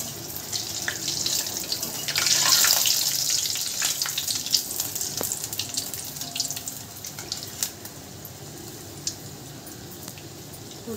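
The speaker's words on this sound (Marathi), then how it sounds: "आता यातला एक एक बॉल आपण तळण्यासाठी सोडूया" Bread vada balls deep-fry two at a time in hot oil in a small kadai over a low flame, a continuous hissing sizzle that swells briefly and then settles into an even bubble.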